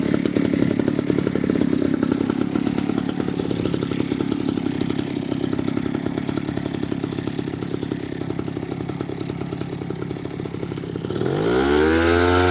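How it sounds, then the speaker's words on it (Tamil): An engine-powered pesticide sprayer runs in a paddy field, a loud steady two-stroke drone close by for most of the stretch, its pitch then rising sharply near the end; no one speaks. "ஓகே மிஷினை ஸ்டார்ட் பண்ணிட்டாப்ல"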